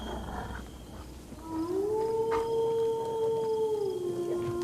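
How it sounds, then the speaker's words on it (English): A dog growls in the horror video game Them and Us: a low, sustained tonal growl swells up and holds for several seconds over quiet ambient game sound. "That's serious growling as though there's a dog."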